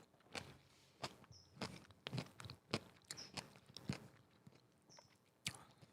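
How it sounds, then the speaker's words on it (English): Crunchy seaweed salad being chewed up close, with a steady run of crisp, wet bites and crunches and no talking. "Let's try their seaweed salad."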